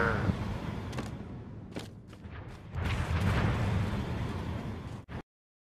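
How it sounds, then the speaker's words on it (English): Deep rumbling booms and blasts roll continuously in a Halo video game battle, with sharper bangs scattered through, loud and dense, ending abruptly. "I hear explosions coming up from the hill."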